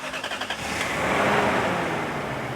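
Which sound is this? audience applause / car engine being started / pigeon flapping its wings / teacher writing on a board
car engine being started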